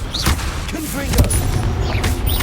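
Confringo spell explosions in the video game Hogwarts Legacy: dull booming blasts and thuds amid busy combat sound, with a voice speaking briefly underneath.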